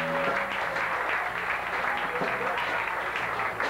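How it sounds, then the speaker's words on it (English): Wedding guests applaud the groom's parents during the introductions at a reception, with a continuous patter of clapping under background music that holds steady throughout. "Nice round of applause for Mr. and Mrs. Martin Sivin."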